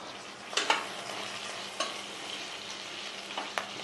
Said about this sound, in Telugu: స్టవ్ సిమ్లో పెట్టేసి మూత పెట్టేస్తే ఉల్లిపాయ అంతా మగ్గిపోతుంది